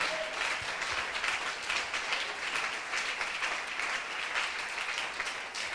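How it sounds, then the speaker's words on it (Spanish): A church congregation applauds in sustained, dense clapping that stays even and fairly loud throughout. "Aplauda al Señor Jesucristo."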